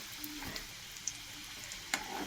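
Puli pitha fry gently in oil over low heat, making a faint, soft sizzle with a few small pops and clicks across a couple of seconds.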